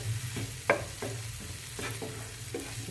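Aloo chaat masala with tomato and amchur powder roasts in a pan, a soft sizzle beneath a slow run of scraping strokes, each push of the spoon clearly separated, with no voices.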